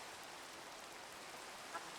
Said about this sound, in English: And it's raining again, crazily enough.